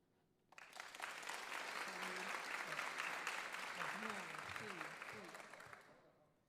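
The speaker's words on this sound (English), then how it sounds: "what I need the audience to do is applaud" A studio audience applauds, the clapping quickly swelling to a full, sustained burst and then fading out. A few voices murmur underneath.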